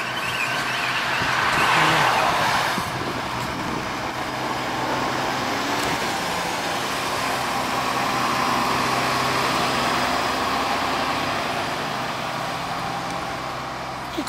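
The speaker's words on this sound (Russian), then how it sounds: "Следующему переезжает автомобильчик, к следующему столбику" A small car moving slowly along a roadside to the next road post during spring washing of road posts near Neues Lager, a steady low engine hum with passing traffic noise, no talk.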